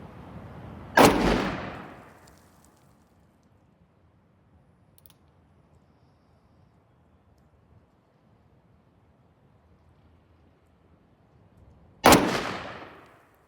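Two loud, sharp gunshots from a Model 629 Mountain Gun .44 Magnum revolver with a 4-inch barrel, fired outdoors about eleven seconds apart, each blast followed by a rolling echo that fades into quiet wind.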